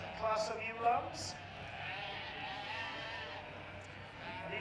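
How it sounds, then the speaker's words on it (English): Dutch Spotted sheep bleating at the Royal Welsh Show, two or three brief bleats near the start over a steady crowd murmur, with someone talking over them. "And each one of these sheep are very individually spotted."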